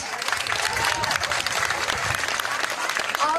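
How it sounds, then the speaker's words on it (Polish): Loud, dense audience applause at a pottery fair in Medynia, continuous and close for the whole stretch with faint crowd noise beneath the clapping. "Wielkie brawa dla Was."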